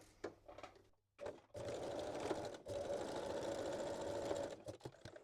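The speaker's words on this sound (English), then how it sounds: "Now I will stitch the lace along the straight edge with long straight stitch" A sewing machine runs a long straight stitch, sewing lace along a straight edge with blue thread, with a short burst, a pause, then a steady close whir that stops briefly before continuing.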